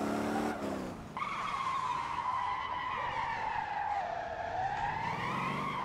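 A car drifting on a race track in the Motor Town: Behind The Wheel game, its tires squealing in one long, loud, continuous skid over a steady engine drone.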